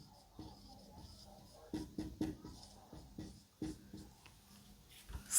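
Pen scratching on paper while a maths fraction is written out during a linear equations problem, a string of short uneven strokes and taps, close and fairly soft, with no talking.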